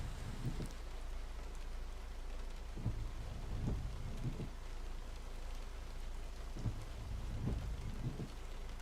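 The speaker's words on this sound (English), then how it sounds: "I hear the rain" Steady rain falls in the truck-driving game Euro Truck Simulator 2, a quiet continuous hiss with soft low rumbles recurring at intervals, no voices.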